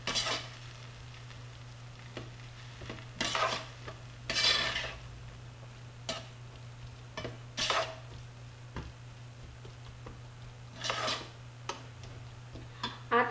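A spoon scrapes and clinks against a pan as a cooked vegetable pizza topping is stirred, giving sparse, soft scraping strokes and light taps over a faint steady hum.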